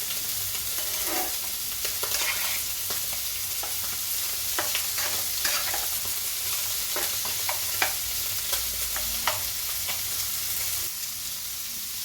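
Rice stirred in a pan with turmeric and salt, a continuous close sizzle under repeated scraping and stirring strokes with a low hum behind, no talk.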